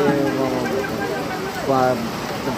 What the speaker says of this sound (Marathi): पाऊस सुरू झाला आहे बघा.